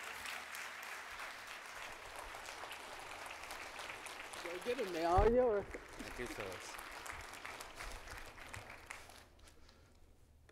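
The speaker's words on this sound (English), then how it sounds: "Big round of applause." A full room of conference attendees at a just economy conference applauds steadily. Someone speaks briefly over the clapping midway, and the applause thins and fades toward the end.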